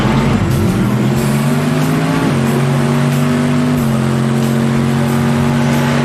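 Two drag racing cars launch off the line and roar down the strip together, engines loud and sustained, pitch climbing through shifts as they accelerate away.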